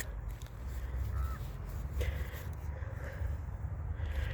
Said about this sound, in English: I'm hearing some crows.